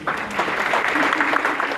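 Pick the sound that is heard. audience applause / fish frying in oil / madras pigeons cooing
audience applause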